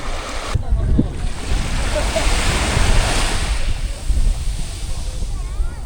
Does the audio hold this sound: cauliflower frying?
no